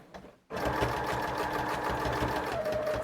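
A sewing machine stitches the back of a Christmas junk journal, starting abruptly after a short quiet moment and then running steadily at close range with a fast, even mechanical whir.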